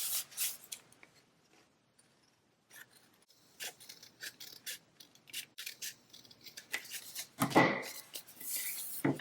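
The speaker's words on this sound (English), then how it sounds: "And then I'm going to trim off that extra." Scissors snip through envelope paper while making a journal page, a string of quick, crisp cuts and rustling handling sounds, close and fairly quiet, with a longer run of snipping near the end.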